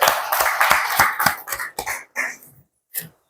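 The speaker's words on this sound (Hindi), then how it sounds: "एक ताली अमरेज के लिए हम लोग।" An audience clapping for a student, a close burst of sharp, rhythmic claps that thins out and fades into a few scattered final claps within a few seconds, with no talking.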